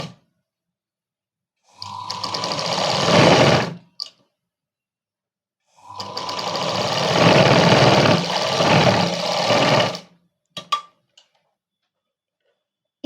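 A sewing machine runs in two sustained bursts while stitching the sleeve of a Punjabi dress, each a loud, close whir lasting a couple of seconds or more, separated by silence, with a few brief clicks near the end.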